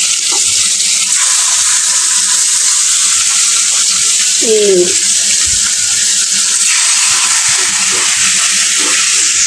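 Food frying in hot oil in a pan, a steady loud broadband sizzle running throughout, with faint voices briefly in the background.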